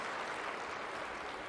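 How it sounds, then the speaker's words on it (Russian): Applause during Putin's 2024 address, a distant, even roar of a large hall clapping, faint and unbroken throughout. "Третьи аплодисменты."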